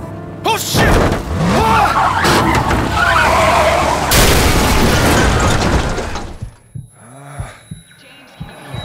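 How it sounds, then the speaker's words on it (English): A truck crashes in the video game Into The Dead 2, with a loud burst of skidding and a heavy impact that drops abruptly into quieter game sounds and scattered thuds. "Truck's wrecked."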